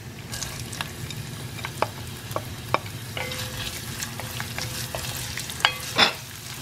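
Onions, fennel, cloves, cardamom and spices sauté for vada curry with a continuous frying hiss. Several light ladle taps and scrapes sound throughout, with a louder clatter near the end.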